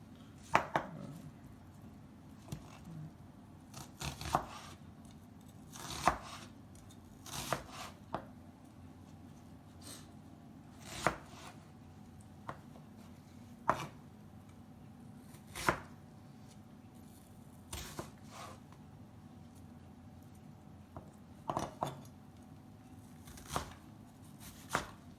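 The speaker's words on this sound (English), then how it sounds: "Start with the onion. Just fine chopping." Onion finely chopped with a knife on a board, quick irregular bursts of crisp taps, close and fairly quiet, with no talking.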